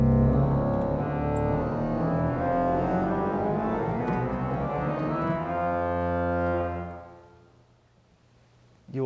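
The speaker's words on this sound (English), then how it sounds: "The pedal division is where we have the big bass notes." Holtkamp pipe organ pedal stops sounding big bass notes, a deep sustained rumbling chord with rich overtones that holds steady for several seconds before cutting off and decaying into the reverberant church space.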